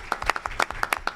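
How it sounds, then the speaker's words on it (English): Scattered clapping from a small audience at an Earth Day forum, a dozen or so separate sharp claps spread unevenly over a second, close by and fairly light. "give a round of applause to Hilda for her work"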